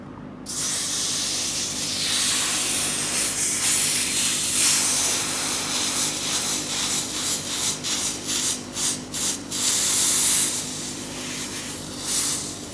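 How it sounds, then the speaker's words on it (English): A steam iron hisses through a damp cloth pressed onto a wooden console table to lift a deep clamp mark. The steady loud steam spray is broken by rubbing and bursts of shaky handling toward the end. "We're going to try using the iron and cloth technique."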